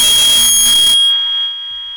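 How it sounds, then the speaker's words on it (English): A loud, piercing electronic alarm tone sounds continuously, with a harsher pulsing layer that cuts off partway, leaving the shrill steady beep ringing on. "No, it's the fire alarm."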